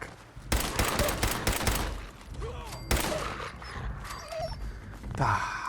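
Dog companion in the video game Fallout 4 yelps and whimpers amid bursts of gunfire, sharp loud cracks and a chaotic fight with brief short cries.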